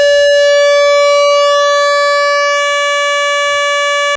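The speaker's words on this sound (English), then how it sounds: "with our square wave, we have the ability to adjust the pulse width, and that is just adjusting the width of the square wave itself" Arturia MicroBrute synthesizer square wave with pulse width adjusted, a loud, steady, bright buzzy tone held for about four seconds whose timbre shifts slightly before ending abruptly.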